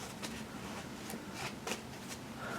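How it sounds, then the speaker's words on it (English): A deck of tarot cards being shuffled, quiet riffling and soft flutters with a few sharper snaps, close up and faint, no voice over it. "shuffling the cards"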